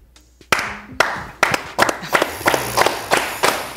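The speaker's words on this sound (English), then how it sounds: "I know you wondering why I'm clapping." A single person claps hands in a slow, uneven rhythm, about a dozen sharp, close claps with short gaps between them.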